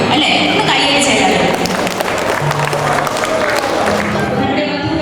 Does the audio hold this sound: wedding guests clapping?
yes